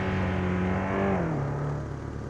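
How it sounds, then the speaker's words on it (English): Honda Prelude engine in the Assetto Corsa racing game, heard from inside the cabin: a steady, loud harmonic drone that holds, then drops in pitch as the revs fall, with no talk over it. "From inside the cabin, the car actually doesn't sound so bad"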